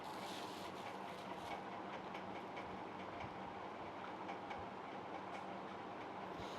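Train passing with the rhythmic clickety-clack of rail cars over the track, a continuous steady rumble at moderate distance, no speech.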